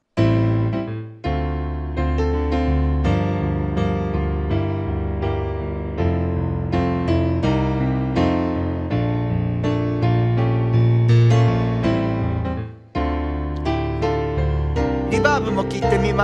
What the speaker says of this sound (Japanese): エフェクトが全くかかってないピアノはこんな感じの音です。